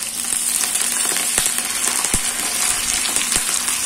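Chopped onion, mustard seeds and curry leaves fry in hot oil, giving a loud, constant sizzle up close with a few sharp crackles and pops.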